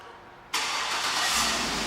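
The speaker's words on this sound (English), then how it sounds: "and the car turns right on." A 2008 Chevrolet Suburban LTZ 4WD engine starts by remote start with a sudden loud catch after brief quiet, then settles into a steady, close, even idle.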